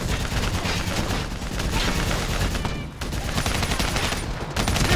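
Sustained, dense gunfire rages in a Call of Duty Black Ops 3 battle against an armored vehicle and a VTOL aircraft, loud and continuous with only a brief dip, with voices faintly mixed into the din.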